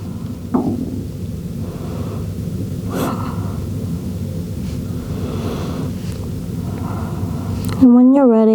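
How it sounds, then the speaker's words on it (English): Slow, deep breaths taken during a yoga flow, a steady airy rush that continues for several seconds before a brief tonal sound at the end. "Just taking a few deep breaths, relaxing your hands down this time."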